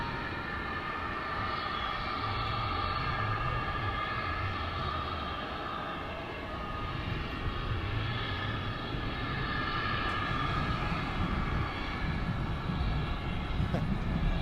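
American Airlines heavy jet arriving from London Heathrow, landing on runway 18 at Dallas/Fort Worth International Airport; a steady, fairly loud broadband engine roar with low rumble that swells and holds throughout, with no talking.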